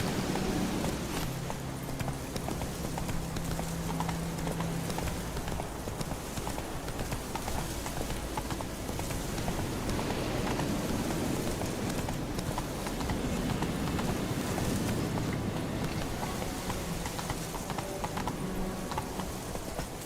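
Roach, the horse in The Witcher 3, gallops with steady, continuous hoofbeats in the game, a dense rhythmic clatter that runs unbroken throughout.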